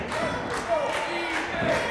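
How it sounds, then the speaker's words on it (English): Crowd at a live wrestling show in Frankfort, Kentucky, cheering and yelling in a sustained roar, with individual shouts rising out of the noise. "just listen to this crowd of Frankfort, Kentucky"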